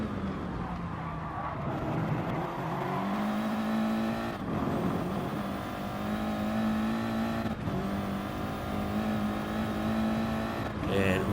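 Audi race cars race closely in the GT Sport video game. Engines rev and shift up steadily through the gears with a sustained loud drone, while a commentator talks over the racing.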